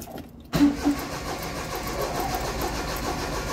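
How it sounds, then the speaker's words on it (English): After a short silence, the starter motor on a 1985 Daihatsu Charade G11 with a 1.0L engine begins cranking, a rhythmic churning that starts abruptly and continues steadily at moderate volume. "Starter motor is healthy, cranking."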